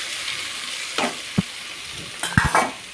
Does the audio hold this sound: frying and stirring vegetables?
yes